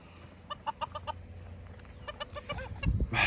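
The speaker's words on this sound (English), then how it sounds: "Chickens!" Farm chickens cluck in a quick run of short, sharp calls, then go quieter, then cluck again nearby, ending with a louder burst of noise close by.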